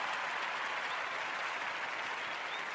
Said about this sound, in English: We give him another clap there.